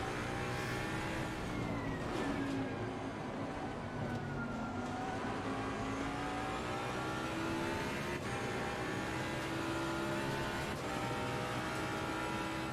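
AMG race car engine in the racing game Assetto Corsa Competizione, a sustained high-revving roar with gear shifts and pitch sweeps, constant and loud beside other cars, no talk.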